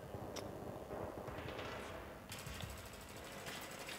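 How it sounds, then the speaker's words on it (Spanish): Gunfire in Battlefield 3, rapid bursts of automatic fire and thuds, mostly distant and muffled at first, then a sharper rattling burst, fairly quiet overall with no talk. "A ver ahora quién está disparando"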